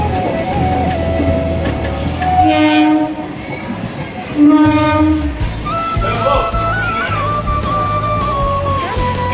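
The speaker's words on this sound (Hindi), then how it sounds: "ट्रेन पहुंच चुका है" A train pulls into a station, with a loud horn sounding twice over a steady rumble of wagons and crowd noise, while people talk nearby.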